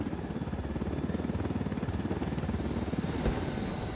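A helicopter in the video game Ghost Recon Wildlands comes in to land, its rotor thumping in a fast, steady chop under a loud engine whine that fills the whole clip.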